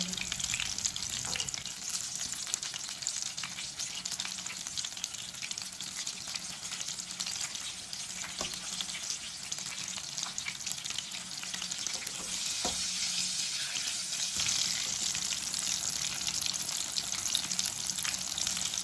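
Pakoras frying in hot oil, a dense, steady crackling sizzle that runs unbroken and fairly close, with a few faint clicks of a utensil beneath it.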